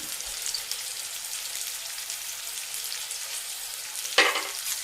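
Long-cut green chillies fry in a pan for a bitter gourd dish, a steady soft sizzle with a brief louder crackle near the end, close and alone with no talk.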